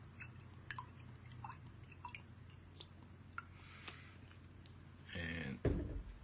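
2006 Nan Jian Wu Liang Phoenix Tuo pu-erh tea poured into a small vessel: quiet drips and light trickles, then a brief louder splashing pour near the end.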